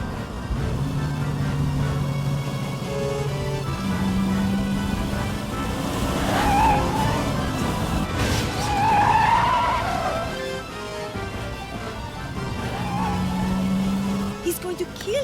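A cartoon car racing fast and skidding, with engine roar and squealing tires rising and falling over about fifteen seconds, along with dramatic music and voices.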